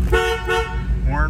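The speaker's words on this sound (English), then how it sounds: "Horn works." A 1990 GMC Jimmy's car horn gives two short honks close by, with a steady engine idle underneath.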